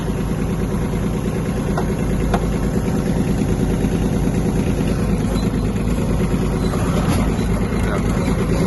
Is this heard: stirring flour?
no